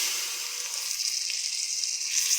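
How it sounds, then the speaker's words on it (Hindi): Minced meat sizzles and fries steadily in a hot pan for a potato keema dish, a close, continuous hiss with a slight swell near the end and no voices. "अब हम इसमें कीमा ऐड करेंगे,"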